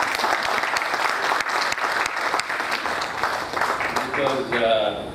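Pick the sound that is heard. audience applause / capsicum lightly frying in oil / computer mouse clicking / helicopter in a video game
audience applause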